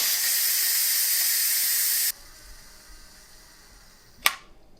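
An Instant Pot Mini Lux pressure cooker blasts a loud, steady jet of steam from its quick pressure release, then cuts off abruptly, leaving a quiet stretch broken by one sharp click near the end.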